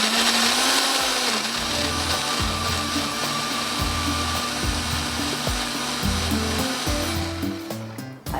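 A kitchen blender grinds onion, tomato and yogurt into a paste, giving a loud, steady motor whine with a rough, churning grind that surges and dips in pulses throughout. There is no talking.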